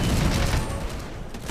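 A grenade explosion in the Shadowgun video game: one loud, dense blast with crackling debris that fades over about a second and a half.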